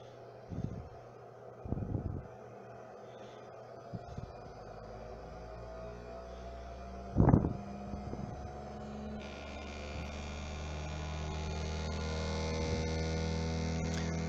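A shaft balancing test machine running at 4000 RPM gives a steady low electrical hum with a faint tone that slowly builds and brightens, broken early on by a few soft knocks and a brief clunk.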